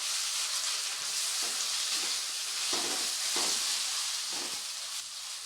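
Onion, ginger, garlic and chilli powder fry in oil for a chicken pepper fry, giving a continuous hissing sizzle with soft, regular stirring thuds every second or so, and no talking.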